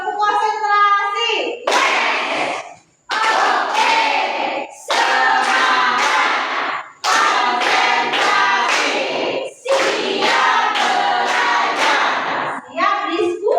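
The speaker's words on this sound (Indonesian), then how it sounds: "1, 2, 3, tepuk konsentrasi" A classroom group claps a rhythmic 'concentration clap' pattern in short bursts of sharp, even claps, with children's voices chanting along between brief pauses.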